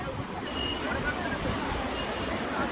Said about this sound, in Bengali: কি আওয়াজ দেখ সমুদ্রের জলে।